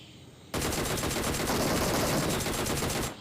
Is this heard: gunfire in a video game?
yes